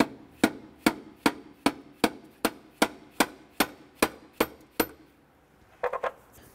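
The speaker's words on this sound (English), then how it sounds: "We're going to use our mallet to gently tap our throttle body loose." A mallet taps a 2008-2012 Honda Accord throttle body loose in about eleven even, sharp knocks at a steady pace, followed by a brief light rattle at the end.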